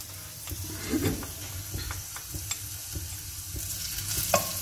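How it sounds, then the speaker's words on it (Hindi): Garlic hits a preheated pan of oil for shakshuka and fries with a steady crackling sizzle, stirred with scattered clicks and scrapes, close and moderately loud with no talking. "ये देखिए जी, पैन पहले से गर्म था। अब हमने इसमें डाल दिया है अपना लहसुन।"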